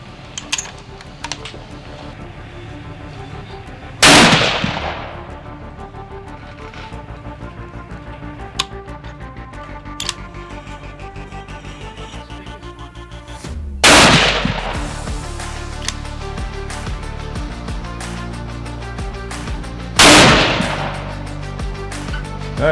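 A rifle fired from shooting bags gives three loud, sharp gunshots several seconds apart, each cracking close by and ringing out, with faint clicks and handling noises in between.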